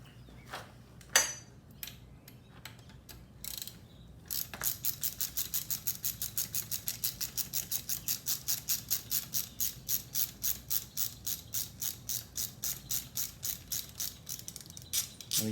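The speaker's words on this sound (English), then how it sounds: "we're going to loosen the lock nut on that side" A ratchet wrench loosens the lock nut on the front end of a BMW R90/6 motorcycle: a few sparse clicks, then a long run of rapid, evenly spaced metallic ratchet clicks, close up and without speech.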